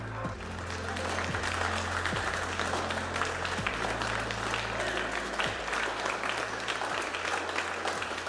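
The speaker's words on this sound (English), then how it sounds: "the applause from our team" Steady applause from a team in a rocket launch mission control after payload deployment, clapping continuously, with a few voices mixed in underneath.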